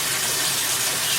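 A hand-held shower head on its massage setting pours a steady, dense hiss of running water, close and continuous without a break, with no voice over it.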